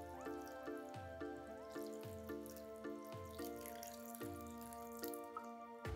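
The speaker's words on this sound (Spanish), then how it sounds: "le añadiremos agua hasta cubrir todo lo que tengamos ahí" Water runs into a metal cooking pot holding pierogi filling ingredients, sounding as a rhythmic series of ringing, splashing drips that resonate in the pot. No one speaks.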